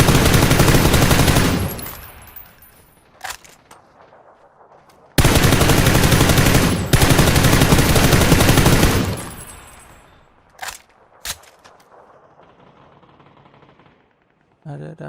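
Long bursts of machine gun fire from the PUBG video game's training room ring out loud and close, broken by pauses and a few single shots and shorter bursts near the end.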